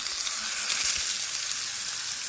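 Chicken pieces searing in a hot pan for baked chicken, giving a loud, steady close-up sizzle of hissing fat with no talking.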